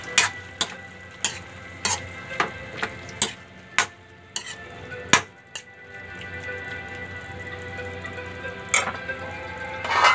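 Octopus with crushed black pepper is stirred in a pan, a regular series of sharp spatula knocks against the metal about every half second over a low sizzle, then a steadier simmer after the strokes stop.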